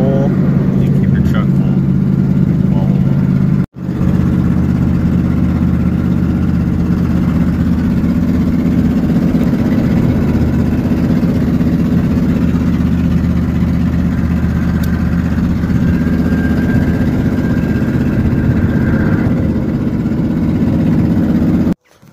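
Truck engine idling at a junk removal job, a steady low rumble that continues almost unbroken, with a brief cut near the start and faint voices over it.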